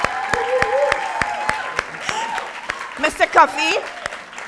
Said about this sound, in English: Let's give this gentleman a round of applause.